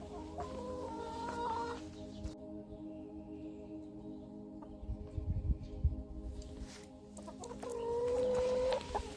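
Hens cluck and call softly around a shared nest in a backyard coop, a steady low hum running beneath their brief, close vocalizations.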